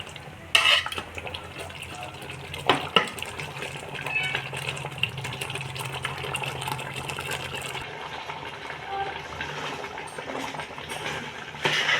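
Green chili, fenugreek, mint and coriander paste is added to a pot and stirred, with scraping spoon strokes, soft clinks of metal and a low simmering bubble beneath, a few sharper knocks near the start and end.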